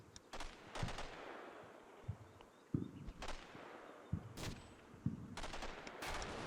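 Heavy 14.5mm gunfire striking a building in a war video game, scattered sharp cracks and impacts at irregular intervals over a faint rumbling background.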